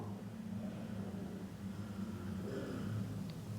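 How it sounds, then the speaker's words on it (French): A motorcycle passes far off on a street below a flat, heard as a faint low engine drone rising slightly and fading within a quiet room's steady background rumble. "J'entends une moto au loin."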